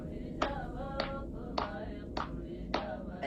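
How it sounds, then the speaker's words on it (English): Women seated on the floor clap their hands for a traditional Kohistani song in the Kohistan region of Pakistan, heard as five sharp, evenly spaced claps with a faint voice underneath. "4 women sat on the floor, each clapping their hands and singing a traditional Kohistani song"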